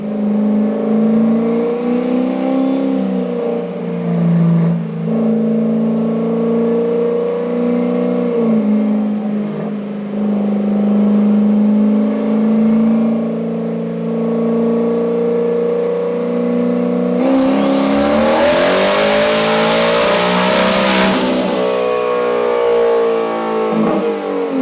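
A single-turbo Mustang engine revs hard on a dyno, a loud sustained mechanical roar climbing through repeated pulls, ending in a final high-rpm run with a bright turbo whine.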